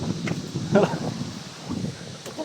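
Gusty wind buffets the microphone in low rumbling bursts, with rustling and faint voices mixed in.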